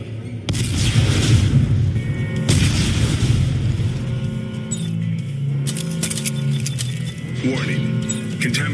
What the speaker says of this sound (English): Computer, arm explosives. And detonate.